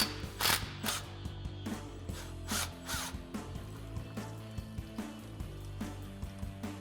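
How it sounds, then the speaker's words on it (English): A quiet run of clicking, ratcheting mechanical bursts comes from an impact wrench with a 15mm socket working on a brake line bolt of a RAM 2500, in short irregular bursts. "we've got our 15mm socket on our impact"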